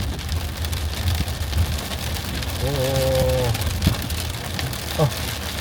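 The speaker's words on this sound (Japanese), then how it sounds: "雨がすごい。" Heavy rain, starting to turn to sleet, drums steadily on a Subaru Forester driving on slushy roads in rural Niigata, a continuous loud wash with a few sharper taps; a voice speaks briefly over it.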